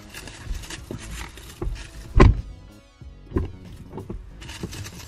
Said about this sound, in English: what I can do to test it is essentially just close the door and then open it again